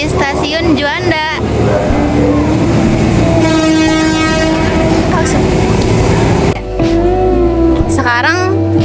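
A train at Juanda railway station rumbles steadily throughout, with a sustained horn-like tone sounding midway, while voices talk over the station noise.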